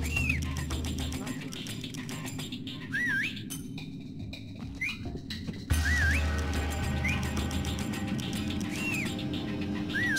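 In Splinter Cell: Pandora Tomorrow, the player character gives short rising-and-falling whistles to lure a guard, about six separate whistles spread out over steady ambient game hum, with a person speaking at times.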